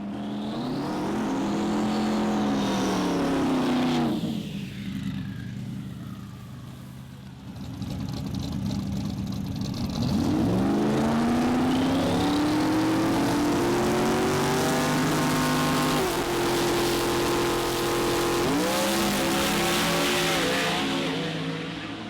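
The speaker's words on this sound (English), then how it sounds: "So now we'll make this short drive and get some good sleep." A car on a short drive during a drag-and-drive event week, its engine loud and close, revving up through repeated gear shifts with a brief drop around a lift-off, then steady acceleration again.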